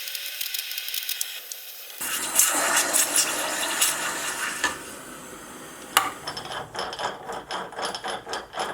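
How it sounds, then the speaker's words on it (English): Hot silver steel parts being quenched in water, giving a sudden sizzling hiss that trails into bubbling and clinking, close and fairly loud without talk. "so I'll quench them in water"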